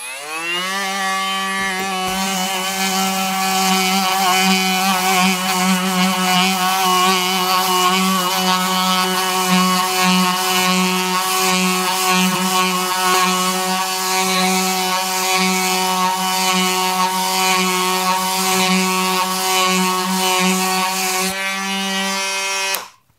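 Oscillating multi-tool with a 60 grit sanding pad stripping old paint off metal, a steady loud buzzing whine with strong harmonics running continuously for about 21 seconds before cutting off, with no talking.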